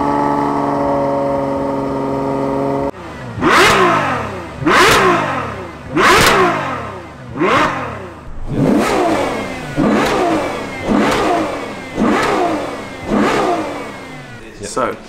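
Ferrari 812 Superfast V12 engine warming up, a smooth idle broken by a series of sharp, loud revs, about eight blips rising and falling in quick rhythm, close by.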